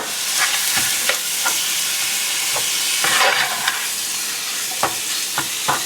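Ground chicken sizzling in a hot pan while cooking pansit Malabon, a steady frying hiss broken by sharp clicks and scrapes of stirring, with no voices.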